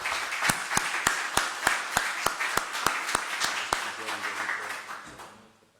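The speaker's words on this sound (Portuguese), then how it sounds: "Uma salva de palmas para o José Carlos Sepúlveda" Audience applause for a speaker at a presentation in Portugal, a dense wash of clapping punctuated by sharp rhythmic claps in steady unison, sustained and then fading out toward the end.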